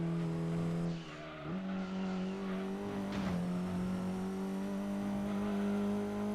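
Car engine holding a steady high drone in Gran Turismo 2, with tires squealing briefly as the four-wheel-drive car slides through a corner, loud and continuous with no speech.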